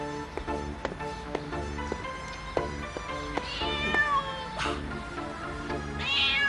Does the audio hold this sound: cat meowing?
yes